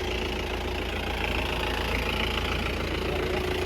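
A tractor engine runs at a steady, moderately faint, low chugging idle while hitched to pull a Mahindra Bolero stuck in wet mud in a village field.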